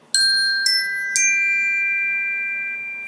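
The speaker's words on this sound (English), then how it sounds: "you heard the ding dong" A ding-dong chime sound effect rings out clearly on its own, three bright bell-like tones struck in quick succession, each lingering and slowly fading with no talk over them.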